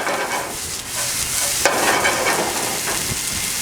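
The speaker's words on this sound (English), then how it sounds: "You hear that sizzle? That's how you know you have a hot pan." Barley sizzling and toasting in a hot pan, giving a loud, continuous frying hiss broken by brief scrapes and rustles of stirring.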